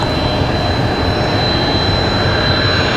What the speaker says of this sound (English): Frontier 1670. Odell the Lynx livery, coming in from Atlanta.